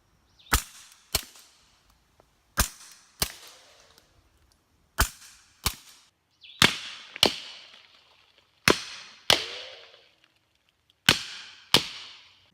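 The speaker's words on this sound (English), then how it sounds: "next 3 rounds are going to be Fiocchi 158 grain subsonic" Ten sharp, isolated reports from a suppressed Glock 19 fitted with an AAC Tyrant 9 silencer, firing Fiocchi 158 grain subsonic 9mm rounds. They come in quick pairs with short pauses between, loud and close, each cracking then decaying fast.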